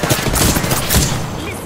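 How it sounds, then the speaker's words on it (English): A short, dense volley of rapid gunfire from the Apex Legends video game, close and loud, running continuously for under two seconds. "Listen up, I'm getting shot at."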